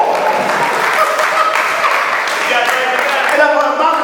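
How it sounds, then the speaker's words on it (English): A convention audience at the SBPM 1st Annual Convention applauds in a thick, even roar of clapping that holds steady at close range throughout. "Give them a round of applause"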